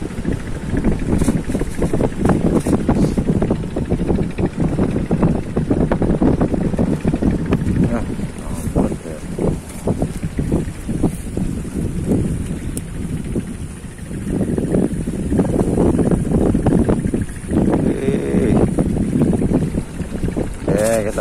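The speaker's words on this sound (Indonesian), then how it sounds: "Di sini anginnya besar." Strong wind buffets the microphone at a river mouth during a fishing trip, with loud, gusty low roaring throughout and people talking over it.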